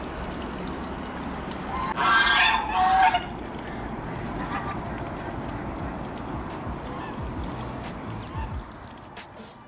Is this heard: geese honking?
yes